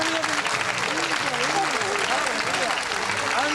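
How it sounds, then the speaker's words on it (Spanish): An audience claps loudly and steadily throughout. A speaker talks over the applause. "Un aplauso fuerte para ella."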